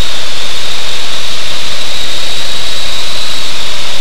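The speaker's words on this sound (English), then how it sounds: "Very nice takeoff." Steady, loud roar of a Cessna C185 propeller airplane engine at full power during takeoff, a constant hissing drone with no talk.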